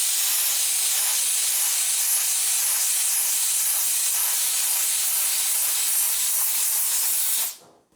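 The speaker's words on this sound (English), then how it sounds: "This steam cleaner is immense." A steam cleaner sprays an engine bay with a loud, continuous close hiss of steam that holds steady for several seconds and then cuts off abruptly near the end.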